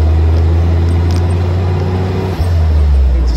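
A replica WW2 jeep engine runs while driving, a loud steady low drone with heavy rumble and road noise, briefly dipping as if shifting gear, heard from inside the vehicle.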